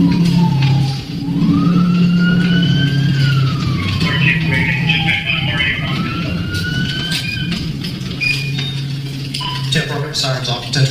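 Police car sirens wail with a rising and falling tone, loud and continuous under a steady rumble and clatter, with a voice talking intermittently over them.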